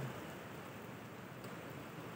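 Steady, dense hiss of heavy rain falling all around in Marikina during a river flood watch, heard from under a shelter near a parking area, even and unbroken from start to finish with no voices.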